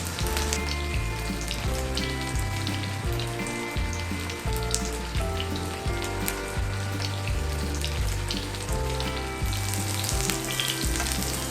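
Vegan stuffed tofu pan-frying in oil, a steady close sizzle and crackle with rhythmic pulsing bursts, continuing without talk throughout.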